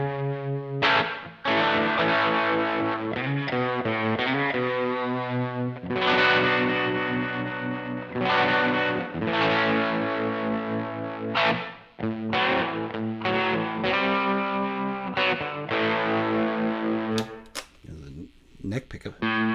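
Electric guitar with a single coil pickup, played through a MayFly Terrain Deluxe reverb pedal with no noise gate: notes and chords washy and spacious, each note ringing and blending into the next, fairly loud and continuous.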